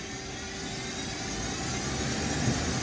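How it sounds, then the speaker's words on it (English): Mori Seiki CL-25B big bore CNC lathe spindle spinning up toward 1500 RPM, a steady, loud machine whine and roar that rises slightly over the stretch, with no talking. "The spindles are increasing right now."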